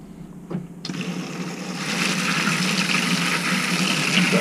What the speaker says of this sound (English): Right, there goes the hot water running through.